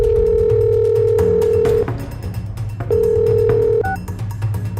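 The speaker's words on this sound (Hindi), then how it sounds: "अभी इसको कॉल लगाता हूँ।" A telephone ringback tone on an outgoing call, two long steady beeps separated by a pause, loud and close over a low hum, with a brief higher blip at the end.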